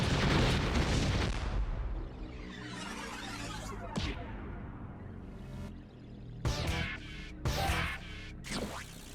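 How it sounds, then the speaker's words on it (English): Explosions go off in the Antonblast video game, starting with a loud burst that tails off into several sharp booms and crackling bangs near the end. "Now everything's exploding correctly."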